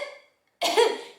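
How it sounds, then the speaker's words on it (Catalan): A single sharp cough bursts out after a brief silence, close and fairly loud, trailing off quickly. "va començar a tossir"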